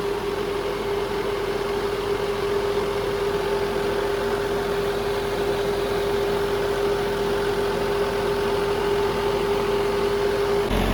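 An Accento electric blower runs in first gear with a constant, loud whirring drone and a steady tonal hum, unchanging from start to finish and heard alone without talk.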